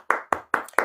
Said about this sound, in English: Hand clap